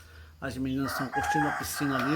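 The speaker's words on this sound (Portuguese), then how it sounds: "o ruído de fundo, um galo cantando" A rooster crows on a farm in São Roque, a loud, drawn-out, wavering call that fills most of the moment, heard alongside a person speaking nearby.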